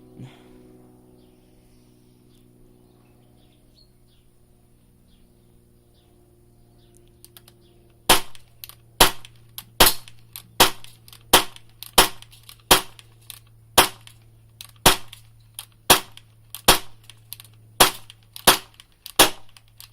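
An Enforcer Tac Kit MBAT airsoft gun firing: after several quiet seconds, about fourteen sharp, evenly spaced snapping shots ring out close by, each with a short decay, and no talking over them.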